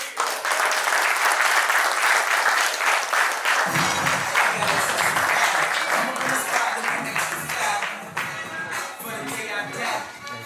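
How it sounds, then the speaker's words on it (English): A conference audience applauds a keynote presenter, a dense, steady wash of clapping that stays loud for about ten seconds, with light shuffling near the end; nobody speaks. "So if we want to give a round of applause for our next keynote presenter here, Angel Quiroz."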